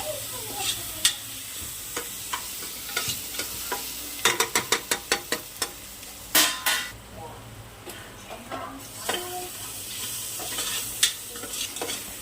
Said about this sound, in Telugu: అల్లం వెల్లిగడ్డ పేస్ట్ వేగిందండి.